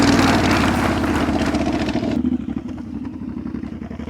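A motorcycle ridden at slow speed in a practice session revs loudly and closely under throttle. The engine roars steadily, then drops to a lower, pulsing rumble partway through.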